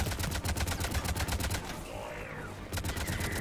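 Rapid automatic Disruptor weapon fire in the Mass Effect 3 video game, with dense, loud bursts of shots that pause briefly and then resume.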